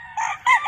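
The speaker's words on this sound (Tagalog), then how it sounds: "Super Brown Red. Galing sa Mount Banahaw." A Super Brown Red game fowl rooster from Mount Banahaw crows close and loud in a short, clear two-part call, with no talking over it.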